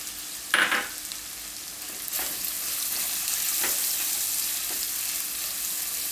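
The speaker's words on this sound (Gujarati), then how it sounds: "હવે આપણે આમાં ડુંગળી નાખશું." Coarsely chopped onions fry in hot oil with a steady, bright sizzle, a sharp burst as they go in followed by a few stirring scrapes, close to the pan.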